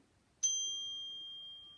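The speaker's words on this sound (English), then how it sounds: "So here is the sound of the chime." A chime is struck once, giving a bright metallic ding that rings out and slowly decays, clear and close, with no other sound. It is used for calming down after recess.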